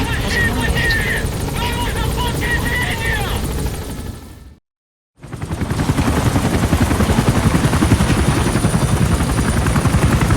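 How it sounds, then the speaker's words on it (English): A support helicopter arriving in the video game Metal Gear Solid 5: a loud, steady rotor roar with rapid chopping, broken by a brief silent gap, while a radio-style voice speaks over the opening seconds. "Support helicopter has arrived."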